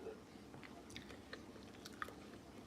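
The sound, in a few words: chewing food while eating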